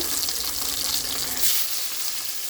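Marinated tilapia fish fries in hot oil with a steady, hissing sizzle. It is close and fairly even, with no voices.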